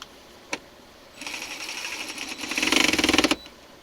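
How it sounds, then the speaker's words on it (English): Mac ratchet turning bolts on an F150 center console, a single click, then a rapid whirring chatter that builds in loudness into fast regular clicking before stopping abruptly, close and alone. "Little Mac ratchets are badass."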